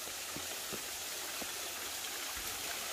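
Steady rushing roar of a tall waterfall of very clear water, a continuous broadband wash with no voices, close and even throughout.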